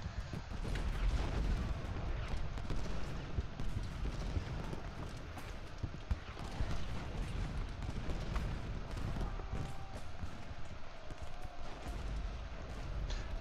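Heavy artillery booms across a Gettysburg Civil War battlefield in Ultimate General Gettysburg, scattered irregular blasts over a continuous rumble of galloping cavalry hooves and distant battle noise.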